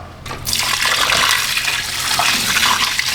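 Old coolant pours steadily from a turbocharged Chevy Cruze with a leaking water outlet into a catch pan, a loud, continuous splashing rush of liquid that starts abruptly after a brief quiet moment and holds without pause.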